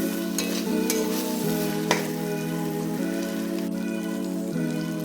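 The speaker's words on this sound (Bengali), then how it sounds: "এবার আমি একটু গরম জল দিয়ে দেবো।" Chicken curry masala sizzles steadily in a pan as hot water goes in, a broad continuous hiss with a few sharp spatters and faint stirring scrapes, close and fairly loud with no voices.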